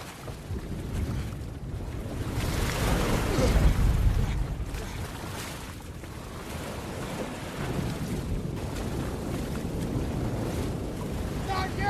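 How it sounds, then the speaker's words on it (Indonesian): Rolling ocean waves and wind at sea, swelling and surging irregularly, with rushing water close by. "Sekuat tenaga, dia mendayung melawan ombak agar bisa sampai ke tengah laut."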